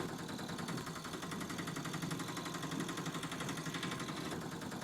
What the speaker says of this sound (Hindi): इंजन की आवाज अब भारी लगने लगी थी